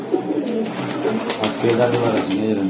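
Giribaj high-flying racing pigeons in a loft coo and rustle in soft, repeated rolling calls close by, while someone talks over them.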